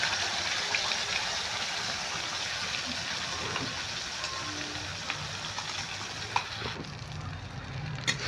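Spice paste sizzles in a hot pan while being stirred, a steady close hiss with soft scraping and occasional clicks of the spoon against the pan.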